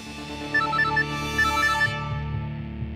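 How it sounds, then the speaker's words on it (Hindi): A phone ringtone plays a repeating electronic melody in two short bursts, loud and close over a sustained tonal background bed, then fades. "कुशल का फोन है।"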